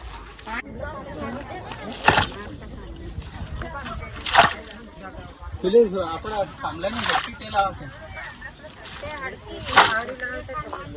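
Water is poured into a snake burrow beside a field, making repeated sloshing and splashing bursts over a running flow while people talk nearby.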